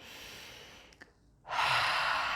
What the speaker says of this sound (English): literally take a deep breath